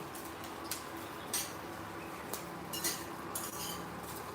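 Curry leaves dry-roasting in a pan without oil, with faint scattered scraping and light clinks of stirring over a soft, steady background hiss.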